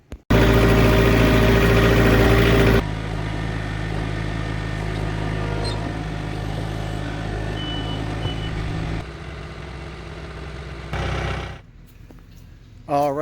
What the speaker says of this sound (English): go grab the tractor. It's gonna help me out with this and go remove this concrete